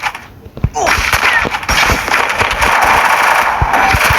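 A grenade explosion in the Counter-Strike video game, a loud blast after a brief lull, followed by sustained rumbling, crackling and scattered gunfire-like pops.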